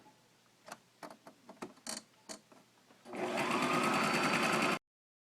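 A sewing machine runs in one steady burst for under two seconds, stitching a reinforcing zigzag seam close to the edge of a button throw pillow, preceded by several sharp handling clicks and taps.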